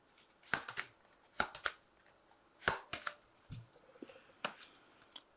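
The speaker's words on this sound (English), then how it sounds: "So I'm just going to draw some cards from the Animal Tarot." Cards drawn one by one from an Animal Tarot deck, giving a series of soft, close snaps and papery flicks in small bursts of two or three, with faint rustling between them.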